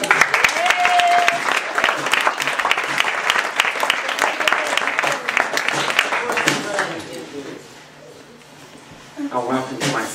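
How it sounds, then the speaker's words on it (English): Audience at a suitcase circus show breaks into loud, sustained applause with cheering voices, fading to a quieter lull near the end before a performer's voice and crowd noise return. "big round of applause"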